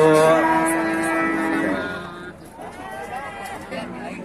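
A loud, close moo from cattle at an Indonesian cattle market lasts over a second, followed by a quieter, more distant lowing call amid background murmur and market bustle.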